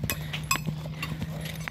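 Hooves of a trotting horse clip-clop in quick, fairly even beats, near and moderately loud over a steady low background hum.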